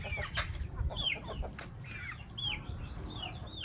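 Hens cluck and chatter close by, with repeated short calls over a steady low rumble of background noise, one near another as the flock gathers to go in.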